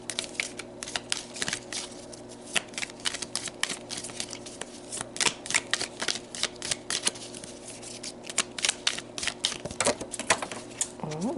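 Tarot cards being shuffled by hand, a steady run of crisp riffling flutters and soft slaps, close and fairly loud, continuing throughout with no talking.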